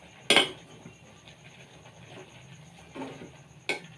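Prawn cutlet mixture being stirred in a bowl, with a few sharp close clinks of a utensil against the bowl between soft, quiet mixing sounds, no talk.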